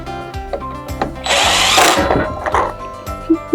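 A power drill drives screws back into a DeWalt DWS779 miter saw during an on/off switch install, one sustained whirring run that ramps up loud and close, then short bursts and clicks as each screw seats.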